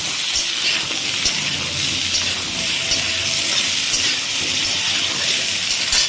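Red amaranth greens and cut eggplant fry in a pan with a loud, steady, close sizzling hiss that runs unbroken throughout, with occasional faint clicks and no talking.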